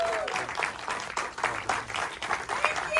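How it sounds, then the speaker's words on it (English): A theater audience at a Q&A after a 1986 film screening applauds, many hands clapping in a dense, steady patter with a few louder claps standing out, moderately close and continuous throughout. "Let's get another little round of applause for them."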